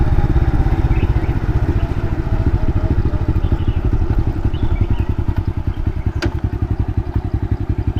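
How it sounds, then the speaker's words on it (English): A motorcycle engine runs at full throttle while riding up hills, giving a loud, steady, rapid pulsing drone that continues for 8 seconds, close and continuous, with no speech. "The bike is so slow. I have to full throttle out those hills"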